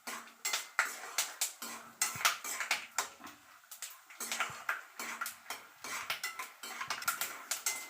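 Raw gongura leaves being stirred and fried in a pan for gongura pulihora, with repeated sharp clinks and scrapes of a utensil against the metal pan in an irregular rhythm, close and fairly loud.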